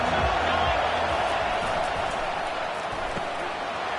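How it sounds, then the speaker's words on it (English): A loud stadium crowd at a Wisconsin versus Arkansas football game roars in a steady, sustained wash of cheering, with faint thuds near the start. "This crowd bringing an ear-splitting welcome to their visitors."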